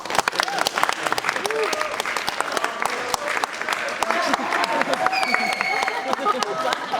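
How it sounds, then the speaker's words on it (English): A room of people attending a financial literacy talk breaks into lively applause, a dense wash of clapping that carries on steadily with some murmuring voices mixed in. "Everyone clap for Asher"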